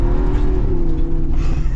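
A modified Jeep Wrangler Rubicon 392 accelerates hard while drifting. Its engine gives a loud, steady, close rumbling roar that holds throughout, with no voices.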